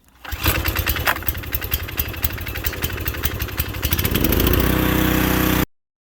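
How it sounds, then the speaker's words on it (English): A garden tiller's small gasoline engine, run on choke, catches after a pull and runs steadily with a loud, rough, buzzing drone that climbs and settles into a constant roar before cutting off abruptly. "we'll see what he does when I fire up the tiller"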